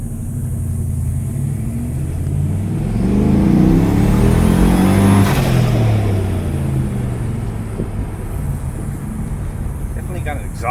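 A turbocharged Ford Mustang with a 4.6 engine and an exhaust leak revs, rising to a loud whirring roar that peaks and then eases back to a rough, steady rumble.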